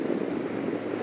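Wind buffets a microphone on an exposed, freezing mountain in the Brecon Beacons, producing a steady low roar with no talk.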